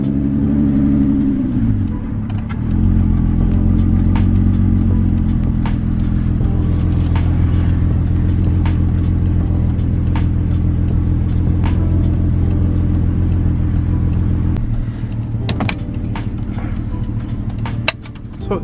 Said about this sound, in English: let me crank it up and see how we look from there